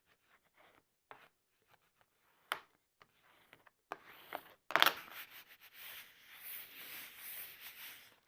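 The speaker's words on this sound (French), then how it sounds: "Vous pouvez utiliser votre plioir pour bien aplatir." A bone folder is pressed and rubbed over paper to flatten it, with scattered quiet taps and scrapes followed by a closer, louder run of soft rubbing strokes.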